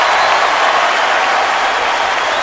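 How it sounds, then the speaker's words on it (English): Stadium crowd at an NFL game between the Bengals and Seahawks roars steadily after a quarterback sack, a dense, loud, continuous wash of cheering and applause with no break across the moment. "And that'll bring the crowd back to life."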